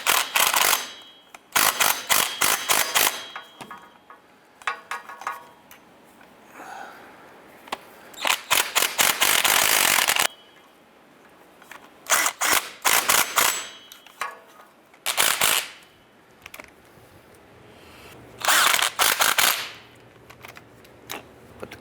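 A ratchet wrench snugs down the starter flange bolts on a Jeep Liberty, giving rapid clicking bursts that start and stop in separate runs, close and loud, with quiet gaps between them and no voices.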